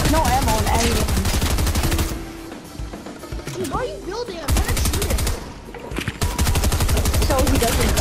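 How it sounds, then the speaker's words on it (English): Video game gunfire crackles in fast automatic bursts, loud and steady at the start and end with a quieter stretch between, while a person talks over the shooting. "Oh, someone's shooting."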